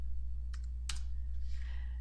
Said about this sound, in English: I'm just clicking over here in the flow graph and hitting the tab key and typing in